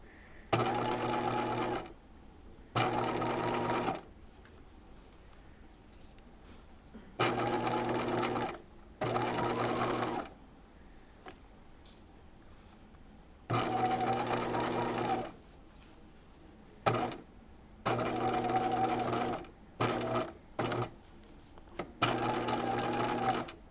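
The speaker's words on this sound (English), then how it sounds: "be sure to stitch right on that marked line, because if you get off at all, your welt is going to look uneven." Sewing machine stitching a jacket welt along a marked line, loud close bursts of steady motor whirring and needle chatter separated by short quiet pauses.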